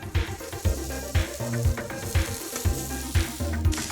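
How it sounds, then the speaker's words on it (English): Chicken cakes frying in vegetable oil, a steady sizzle and crackle with a few clanks and knocks of a pan throughout. "coats them all with a little vegetable oil. then puts them carefully into a frying pan."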